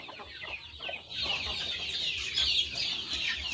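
Chickens cluck close by in a rapid, overlapping chatter of short calls that carries on steadily throughout.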